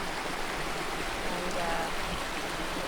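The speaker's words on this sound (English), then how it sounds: "this is a very scenic little brook we're next to." A small, scenic brook flows steadily near Lake Tahoe, California, its broad, continuous water rush holding even throughout with no clear talk over it.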